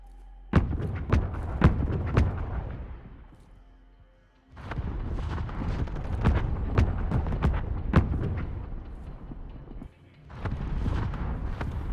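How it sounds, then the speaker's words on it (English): Heavy mortar strike explosions in the Modern Warfare video game, a string of deep booming thuds and blasts in two dense bursts separated by a brief lull, with no talking. "Our mortar strike is inbound."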